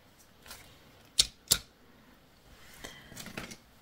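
Scissors snipping paper scraps to size for a scrapbooking pocket letter: two sharp, close cuts in quick succession, then softer rustling and handling, quiet overall.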